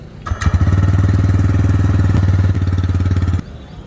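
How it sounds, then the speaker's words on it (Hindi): A TVS Raider 125 motorcycle, black and red top model, starts and idles with a steady, throbbing low engine note, loud and close, holding evenly for about three seconds before cutting off. "तो चलिए अब इसकी आपको इंजन की साउंड सुना देता हूँ मैं।"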